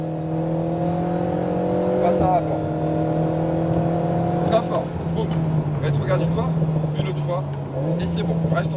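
An Alpine A110R pulls hard at full throttle on the Lohéac circuit, its engine note climbing in steady harmonic sweeps with a brief dip at a gear change, while a coach's voice talks over it throughout.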